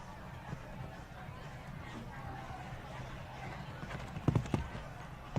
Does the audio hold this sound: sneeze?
no